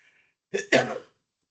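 A single person gives a short, harsh cough, one loud rasping burst in two quick parts that stands close and alone in an otherwise quiet room.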